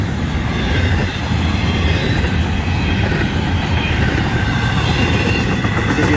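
A Florida East Coast Railway freight train of empty cars rolls past close by, a continuous loud rumble with rhythmic wheel clatter and occasional squeal, with no other sounds.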